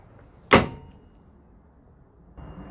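Rear barn door on a Ford Transit Custom L2 H1 Limited van, one sharp metallic clunk as the latch releases, then quiet, and a faint low rumble near the end.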